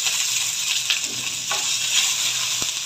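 Chopped onions sizzle steadily in hot oil in a new non-stick pan, a continuous close-up hiss that holds even throughout, with a faint clink near the end.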